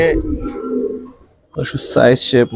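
A silver Giribaz pigeon coos in a low, throaty rolling tone for about a second, then a pause before a voice speaks close and loud.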